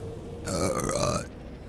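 A single loud, drawn-out burp rumbles close to the microphone for nearly a second, with nobody talking.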